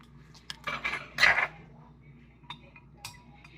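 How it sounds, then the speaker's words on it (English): A spoon stirs yeast into a bread mixture in a bowl, giving a brief burst of scraping clinks followed by a few lighter, scattered taps, close and moderately quiet. "And just give that a quick stir."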